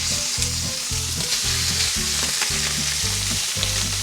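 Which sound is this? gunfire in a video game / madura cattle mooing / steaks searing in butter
steaks searing in butter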